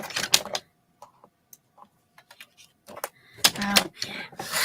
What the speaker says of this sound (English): we are going to cut some more 1/8 inch strips of the honey cardstock.